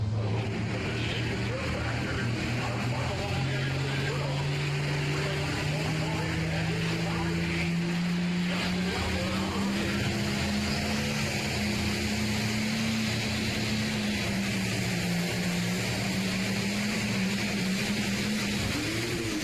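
A heavy tractor engine roars continuously at a distance during a tractor pull in Hillsboro, Wisconsin, its pitch slowly climbing and wavering as it strains under load, with crowd noise around it.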